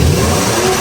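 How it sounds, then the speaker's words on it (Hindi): A car engine with a leaking silencer revs loudly and close up, a harsh, raspy roar that holds steady through the brief moment. "रेस दे के देख लूं प्यारे भाई?"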